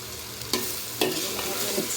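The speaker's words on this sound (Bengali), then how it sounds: "ভালোভাবে নাড়া দিচ্ছি, কত সুন্দরভাবে হয়ে গেছে।" Chicken vegetable pasta with beans and coriander being stirred in a hot pan: a constant close sizzle with two or three distinct scraping strokes of the spoon, and no voices.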